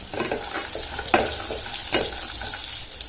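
Peanuts being roasted in a pan, with a steady frying hiss broken by scraping stirs and a few louder scrapes as they are turned.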